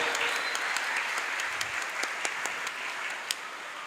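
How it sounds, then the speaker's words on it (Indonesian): A crowd at an Indonesian Independence Day flag ceremony at a Xaverius school compound claps for the flag-raising troop. The applause is soft and distant, with scattered sharper claps standing out near the end. "Kita berikan tepuk tangan untuk pasukan pengibar bendera."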